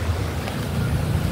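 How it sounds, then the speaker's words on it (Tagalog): Strong wind buffets the microphone outdoors among trees after rain, a steady low rumbling roar with gusty texture and no talk. "Oh, ang lakas ng hangin na."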